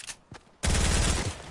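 Gunfire in the video game Fortnite: a couple of faint shots, then a sudden loud, rapid burst of automatic fire that rattles on for nearly a second.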